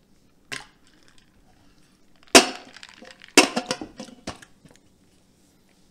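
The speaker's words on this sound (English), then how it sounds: "Two more ice cubes to make it 5 ice cubes." Ice cubes dropped one after another into a glass for bourbon, a few sharp clinks and rattles separated by pauses, close and loud against a quiet room.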